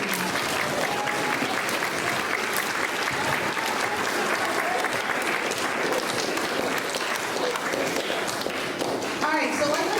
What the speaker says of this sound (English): Hey everybody, another round of applause for everyone that got awards today.